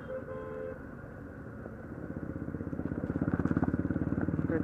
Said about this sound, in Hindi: ट्रैफिक का बहुत इश्यू है।